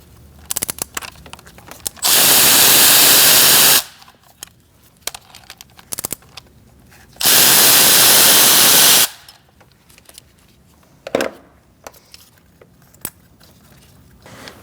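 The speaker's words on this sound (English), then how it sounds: "Using an E10, we're going to take out our 4 bolts on the top." Two long, loud bursts of a power tool, each about two seconds, spin four bolts out with an E10 socket on a 2008-2014 Mercedes-Benz C300 3.0L V6. Between the bursts come quieter clicks and clatter of tools and parts.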